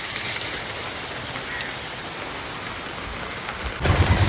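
Torrential rain pouring down outdoors, a loud continuous hiss of heavy downpour that swells louder near the end, with no talking.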